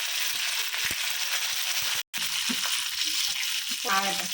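Shallots, cumin, fenugreek and curry leaves frying in hot oil for a tempering, a steady close sizzle broken by a brief drop-out midway, with light stirring clicks.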